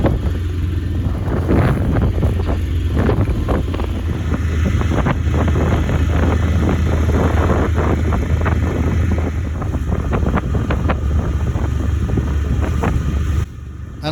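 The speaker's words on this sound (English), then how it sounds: "being beam on to the wind and waves, and that meant a few minutes of exciting rolling around." Strong wind buffets the microphone aboard a small 20-foot sailboat lying beam-on to choppy waves on a river, with steady loud roaring gusts and irregular water slaps against the hull throughout.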